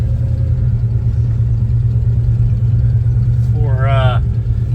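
A 1968 Chevy El Camino drives along with a loud, steady engine rumble and road drone throughout. A brief rising chirp or voice-like squeak appears near the end.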